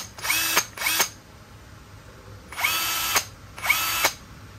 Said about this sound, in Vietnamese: một cái thân máy khoan có búa Hitachi 18V